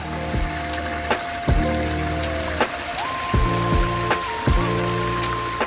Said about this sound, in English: A front yard water feature.